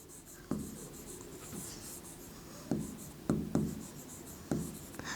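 A pen writes on paper while working a maths proportion exercise, with quiet scratchy strokes and several sharper taps spaced irregularly, close and soft.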